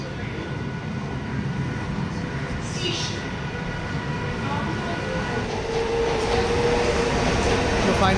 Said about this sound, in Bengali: ট্রেন আসছে কিছুক্ষণের মধ্যেই